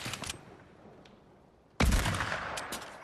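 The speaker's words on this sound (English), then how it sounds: "I've shot you so many times" Gunfire from the video game Fortnite: a brief burst of shots at the start, a quiet gap, then a loud, dense volley of rapid shots that continues to the end.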